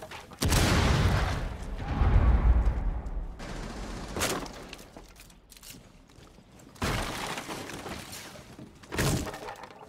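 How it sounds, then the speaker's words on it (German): Breach charge explosions in the video game Rainbow Six Siege, several heavy booms with crashing, shattering debris, loud and close, separated by quieter gaps. "Sprengladung bereit für Explosion."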